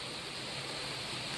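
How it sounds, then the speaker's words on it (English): Dense, steady hiss of heavy rain heard from inside a conservatory, a continuous broadband wash without breaks, fairly close and even in loudness. "It's pouring down rain."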